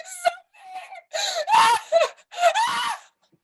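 Woman in an audio drama gives a series of loud, strained cries and gasping shrieks in bursts, close and dramatic, with short pauses between them.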